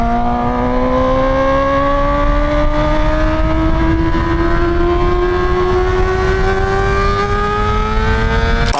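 Straight-piped 2020 Yamaha R6 sport bike revving hard and steadily climbing in pitch, a loud close-up exhaust wail held for the whole stretch with no letup.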